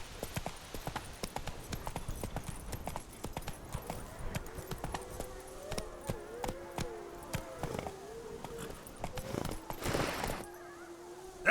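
Roach the horse trotting in The Witcher 3, steady hoof clip-clops close by in a regular rhythm, with a low tonal hum and faint background sounds under the hoofbeats.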